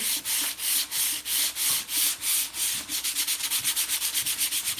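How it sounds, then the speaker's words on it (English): Hand sanding of chalk paint with 220 grit paper on a foam block, loud close rhythmic scrubbing strokes, slow and even at first, then shorter and quicker. "I'm using 220 on a foam block"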